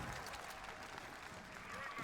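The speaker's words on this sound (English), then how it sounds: "Give yourself a round of applause." A large crowd at an esports tournament applauds and cheers in a steady, dense wash of clapping that holds for a couple of seconds, heard from within the arena at moderate volume.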